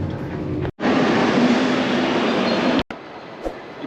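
A train arrives at a station in Berlin, its loud, steady rumble and rolling rail noise filling most of the moment, cut by two abrupt dropouts and followed by quieter platform ambience.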